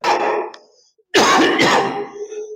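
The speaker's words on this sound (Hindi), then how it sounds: "खांसी हो रही है, मुसलसल खांसी हो रही है।" A person with a sore throat and a week-long persistent cough coughs hard and loudly, close to the listener, in two bursts separated by a brief pause.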